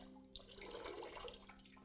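Water pours out of a glass Klein bottle in a soft, continuous trickling splash with a faint steady hum underneath, quiet and close.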